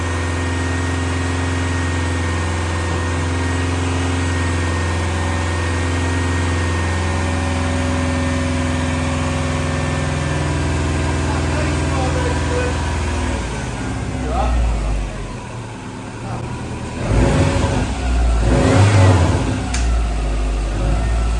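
A rare Prodrive Subaru WRX engine, newly running during a restoration, idles steadily and close for a long stretch, then gives several sharp revs toward the end.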